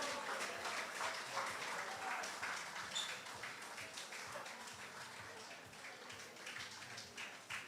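Audience applause at the Grenada Athletic Association's 100th anniversary award ceremony, a sustained room full of clapping that holds steady and slowly tapers, with scattered voices mixed in.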